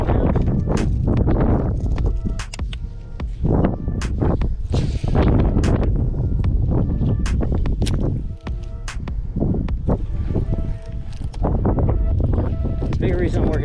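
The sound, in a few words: strong wind outdoors on a boat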